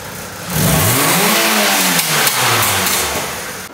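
A car engine in the MEME36 project build revs up hard and then falls away through an exhaust with a small leak, loud and close, the rising and falling pitch broken by sharp pops and bangs.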